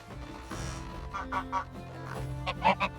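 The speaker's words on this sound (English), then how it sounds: "Buy some geese." Geese honking in the video game Medieval Dynasty, a few short nasal honks in an irregular sequence over a low background hum, fairly close and moderately loud.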